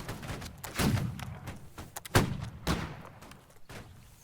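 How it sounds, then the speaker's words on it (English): Gunfire in the multiplayer video game Holdfast: several irregular, fairly close bangs and dull thumps over a low rumble of battle noise, with no talking. "I actually got someone shooting through the bush"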